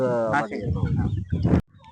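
Free-range village chickens cluck and squawk close by, a busy run of calls over about two seconds, ending abruptly.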